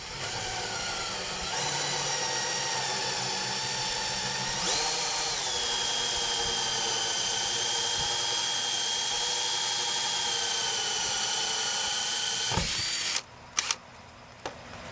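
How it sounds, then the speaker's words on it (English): A drill driving a 1 1/8 inch hole saw through an outside wall whines steadily and loudly up close, its pitch shifting slightly as it cuts, then winds down with a few clunks at the end. "This for this ENT, you'll need a 1 1/8 inch hole saw."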